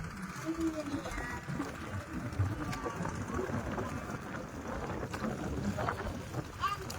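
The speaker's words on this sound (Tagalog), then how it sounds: "Malakas na ang hangin." Strong wind and rough waves buffet a small fishing boat at sea, a steady roaring wash of wind and water throughout, loud and continuous.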